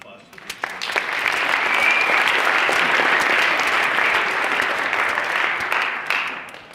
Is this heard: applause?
yes